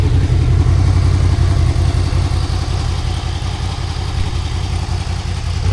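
A Honda Crossrunner 800X four-cylinder motorcycle engine idling in neutral, a close, loud, steady low rumble with an even pulsing throb and no talk.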